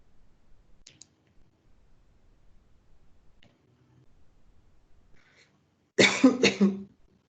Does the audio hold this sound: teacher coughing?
yes